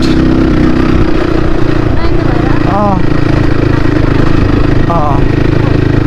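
A Crossfire RM 250 motorcycle is ridden along a quiet road, its engine droning steadily and loudly through rushing wind, with voices talking over it.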